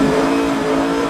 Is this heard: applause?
no